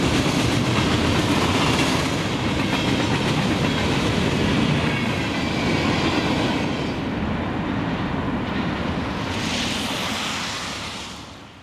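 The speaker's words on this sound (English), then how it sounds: "Following the mixed train is a train of construction dirt-filled hopper cars." A freight train of hopper cars loaded with construction dirt rolls past in December. Its steady rumble and rhythmic wheel clatter fill the whole stretch, then ease off slightly near the end.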